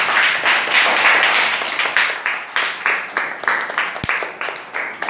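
A group of children claps loudly in a steady run of sharp, rhythmic hand claps, close and energetic, continuing throughout with no talking.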